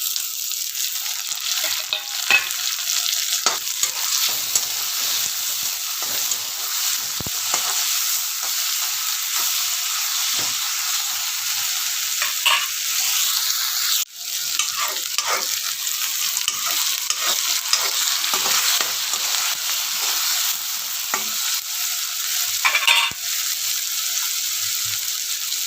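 Tomato and ginger frying in a pan for a sprouted moth bean and potato usal, giving a loud, continuous hiss of sizzling with repeated stirring scrapes and clicks over nearly half a minute, alone without talk.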